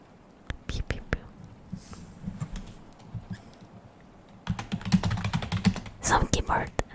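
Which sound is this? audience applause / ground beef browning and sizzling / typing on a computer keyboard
typing on a computer keyboard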